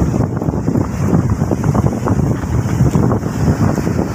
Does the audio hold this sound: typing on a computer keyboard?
no